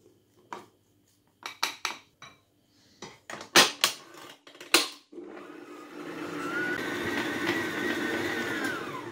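Butter, vanilla and icing sugar being mixed for almond shortbread dough: several sharp utensil knocks against a bowl at first, then a steady, fairly loud whirring mixer drone that runs to the end.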